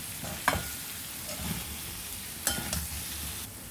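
Sindhi methi aloo with tomato, green chilli and spices being stirred in a pan, a few scraping strokes over a low, steady sizzle.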